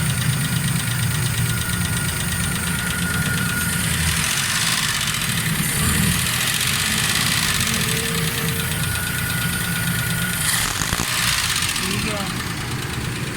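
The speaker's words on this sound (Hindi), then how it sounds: "गाड़ी स्टार्ट है, स्मूथ है, बिल्कुल ज़बरदस्त साउंड है, किसी किस्म की वाइब्रेट नहीं है।" A Suzuki Khyber car engine idles steadily with a low, even rumble and some mechanical knock, running continuously at close range throughout.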